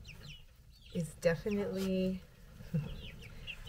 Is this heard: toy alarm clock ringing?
no